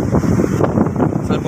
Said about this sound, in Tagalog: Nalaglag sa sobrang lakas ng hangin.